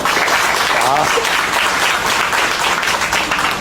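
An audience breaks into loud, dense applause, sustained clapping filling the space at close range for a few seconds, with voices mixed into the crowd noise.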